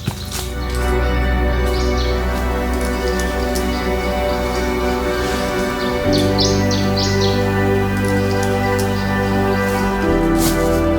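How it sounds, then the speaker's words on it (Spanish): Birds chirp and sing, close and far, through a laurel forest at early morning, over a steady outdoor hiss, with possible soft footsteps on leaf litter. "La banda sonora la ponen los pájaros y nuestras pisadas sobre la hojarasca."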